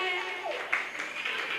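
Parents at a school annual day applaud children on stage, a brief wash of steady clapping heard beneath someone speaking over it.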